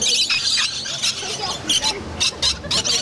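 Lorikeets squawk and squeal in repeated shrill bursts at close range while visitors hand them nectar in a bird-feeding enclosure at Chessington's Wild Asia area, with voices talking underneath.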